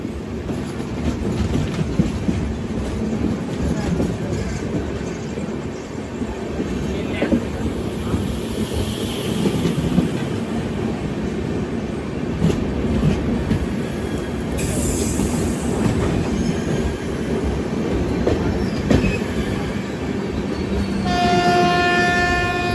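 A Chennai–Visakhapatnam passenger train rumbles past with rhythmic wheel clatter and squeals, and its horn sounds near the end; the noise is loud and continuous.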